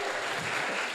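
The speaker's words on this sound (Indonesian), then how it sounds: "Tepuk tangan dong." Audience applause for a group of teenage scout students, a dense, steady wash of clapping filling the whole second at close range with no voices.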